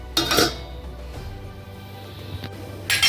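A lid clanks onto a cooking pot of drumstick spinach (murungai keerai) soup, with a sharp metallic clatter at the start, a steady low hum beneath, and another brief clink near the end.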